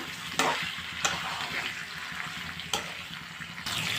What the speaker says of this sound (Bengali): মুরগির মাংসটা শুধু তেলের উপরে এভাবে ভাজা ভাজা করে নিব।